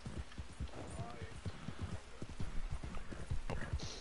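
Horse hooves clip-clop in rapid, steady rhythm in the video game Red Dead Online, faint and continuous under game ambience with a brief voiced sound.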